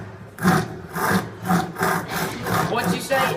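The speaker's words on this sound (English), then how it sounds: "this kind of saw only cuts on the push stroke" A hand pruning saw cuts through wood in a steady rhythm of about six rasping strokes, each push biting harder than the return, close and clear with no talking.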